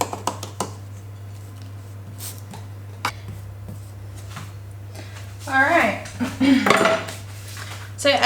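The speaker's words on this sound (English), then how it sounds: "now just with the back of the spoon, you just want to make it as a base and also go up the walls a little bit" The back of a spoon pressing a key lime pie crust base into a baking dish, scattered clinks and scrapes of metal on the dish, then a cluster of busier scraping and tapping near the end, with a person talking over it.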